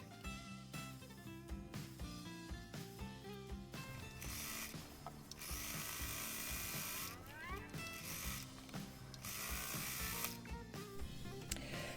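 A sewing machine quilts fabric around pinned elements, its needle clattering in long continuous runs with short pauses and shifts in speed, close and fairly loud with no speech.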